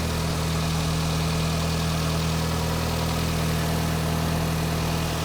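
A repaired VW Mk5 2.0T engine, after an oil pump drive chain failure, idles smoothly and steadily, a constant low hum with an even rumble, close by and uninterrupted.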